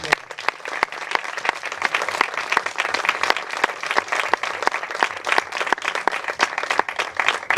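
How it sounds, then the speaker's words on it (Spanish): A crowd gives strong, steady applause for a witness at a burial ceremony for Republican soldiers in a cemetery, with close, sharp individual claps clearly audible throughout. "para quien pido por favor un fuerte aplauso."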